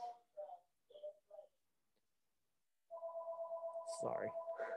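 A mobile phone rings during a classroom lecture, a steady electronic ringtone that starts after a stretch of speech and sounds continuously to the end, loud and close, with a brief clatter near its peak.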